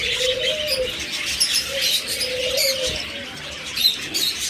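Pigeons at a bird farm coo in a low, repeated murmur that carries through the whole stretch, with brighter chirps and tweets from other birds scattered above it and no voices.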